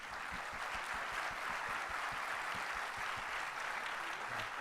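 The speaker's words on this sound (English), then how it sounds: "we all should have a big round of applause for sir" An audience gives a steady round of applause at a management association event, dense continuous clapping filling the whole stretch at an even level with no talk over it.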